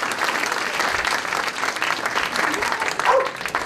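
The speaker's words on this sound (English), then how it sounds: "let's give her a big round of applause." Audience applause at a law enforcement academy talk on K9 contributions, dense steady clapping from a full room filling the whole stretch, close and sustained with a slight swell near the end.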